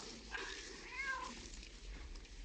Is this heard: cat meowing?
yes